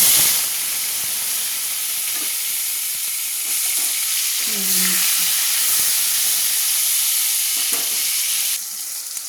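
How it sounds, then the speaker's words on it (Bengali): Tomato frying in hot mustard oil, a loud, steady hissing sizzle close up, with faint scraping stirs and a brief low rattle midway before the sizzle drops slightly at the end. "টমেটোটা আমার ভাজা হয়ে গেছে"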